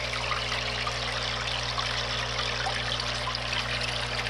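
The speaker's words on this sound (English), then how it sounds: "So this filter definitely does what it does. It makes sure that it's clean, the water. It's got high flow that comes out here." High-flow filter outflow pours into a 55-gallon cichlid aquarium with a steady close trickle and splash over a constant low electrical hum, with no talking.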